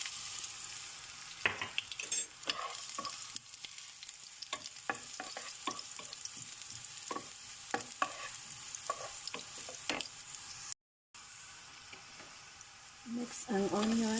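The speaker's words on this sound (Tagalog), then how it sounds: "Lalagay ko na yung garlic." Garlic sizzling in hot oil in a pan, a steady close crackle with frequent clicks and scrapes as it is stirred, after a brief dropout the sizzle carries on.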